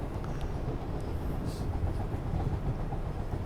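A subway train runs steadily, a continuous loud rumble and roar with faint rail clatter and brief high squeals, heard from inside the car without talk.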